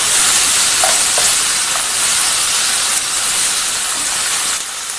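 Chicken with finely chopped tomatoes fries in a pan for an Indian pepper chicken dry roast, a loud, close, continuous sizzle and hiss with a few faint stirring clinks, no talk.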